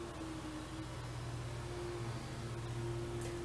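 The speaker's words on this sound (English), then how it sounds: "I never know when they're doing landscaping outside." Steady machinery drone from landscaping work outdoors, heard faintly through walls as a continuous low hum with a tonal whine, constant throughout with no talk over it.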